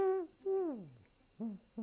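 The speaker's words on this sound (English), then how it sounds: "the wood pigeon's call actually means, you poor fool" A wood pigeon coos softly in a short phrase, two longer falling hoots followed by two clipped ones, heard alone with faint background hiss.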